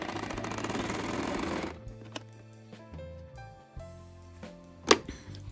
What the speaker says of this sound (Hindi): यहाँ किनारी कपड़े के किनारे पे सिलाई लगाती जाऊँगी